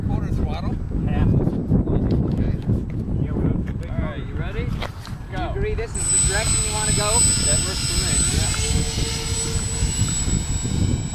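An RC amphibious electric Twinstar II model plane's motors run at part throttle, a buzzing whine that rises sharply midway and holds steady, heard beneath nearly continuous nearby talk.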